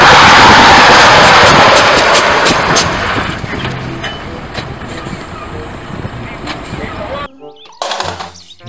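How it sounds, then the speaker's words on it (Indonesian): A loud airplane roar nearby that gradually fades as it passes, followed by a brief gap and a few short bursts of sound. "Pesawat terbang."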